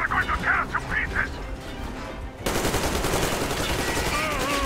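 Gunfire in Metro Exodus: scattered shots early on with voices in the background, then a sustained, dense burst of rapid automatic fire that continues loudly to the end.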